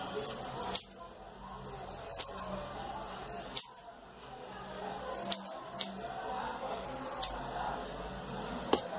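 Scissors trim wool yarn into a round teddy-bear shape: a string of crisp, close snips spaced a second or two apart, over a faint background hum.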